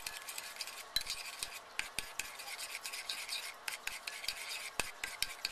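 A spoon stirs sugar cookie batter with vanilla extract in a cup, scraping and clinking against the sides in a steady close rhythm with small taps throughout.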